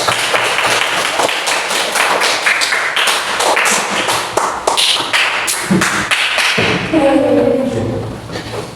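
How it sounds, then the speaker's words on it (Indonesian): Classroom applause for the first student group, a dense run of claps and taps from a room of pupils, with a teacher's voice coming in near the end. "Tepuk tangan untuk kelompok 1."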